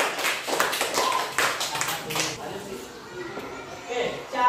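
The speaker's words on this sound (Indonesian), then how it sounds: "Ya, tepuk tangan semuanya." Elementary school students in an Indonesian classroom burst into a round of clapping, a dense close spatter of hand claps that fades over a few seconds, with voices mixed in.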